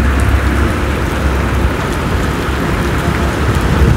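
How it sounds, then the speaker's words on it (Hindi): Heavy rain pours steadily on a road in Sialkot, Pakistan, during hot-season weather, a dense continuous wash of drops hitting surfaces, loud and close throughout, with no one speaking. "बहुत ही बेहतरीन बारिश हो रही है।"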